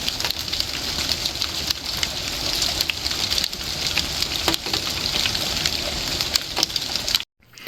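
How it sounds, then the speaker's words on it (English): Small hailstones patter densely and steadily during a thunderstorm, a continuous hissing, crackling rain-like wash with scattered sharper ticks, close and fairly loud. "It's just a little hail, I think."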